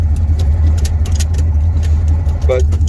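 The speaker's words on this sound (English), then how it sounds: "we're gonna let the Javelin run" A 1968 AMC Javelin with a four-speed runs at a steady idle, a loud, continuous low rumble close by. A brief metallic jingle, like keys, cuts in near the end.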